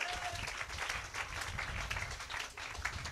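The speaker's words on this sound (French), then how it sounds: "Donnez une main d'acclamation au Seigneur." Church congregation clapping in praise, a fairly quiet, even patter of many hands that pulses slightly, with faint voices mixed in.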